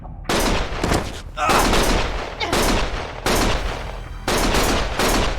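Gunfire in the video game Lost Judgment comes as loud, rapid bursts of shots repeated several times with brief gaps, close and dense.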